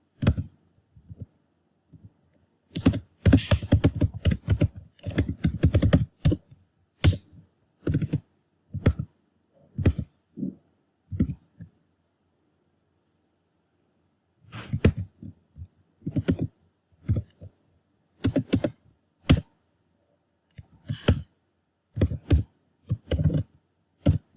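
Computer keyboard typing Java code, bursts of quick close key clicks in irregular runs separated by short pauses, with one longer quiet gap midway, fairly soft and alone.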